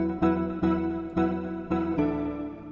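Synthesizer chords played on a keys Opal preset: five bright, sustained chords struck one after another at an even pace, each decaying slightly before the next, loud and alone.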